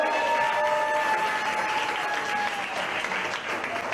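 A crowd applauds loudly and continuously at a TV show launch event, the clapping holding steady before easing slightly near the end.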